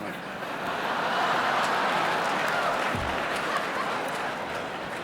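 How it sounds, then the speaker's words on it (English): An audience at the 1985 Kennedy Center Honors gala breaks into sustained applause, a dense wash of clapping that holds steady throughout, loud and close. "Thank you very kindly for your generous applause."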